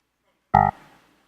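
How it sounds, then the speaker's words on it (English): A short synthetic debugging cue marking a timeout: a single loud, buzzy tone lasting about a fifth of a second, with a faint decaying tail afterward, heard alone. "and the sound of a timeout."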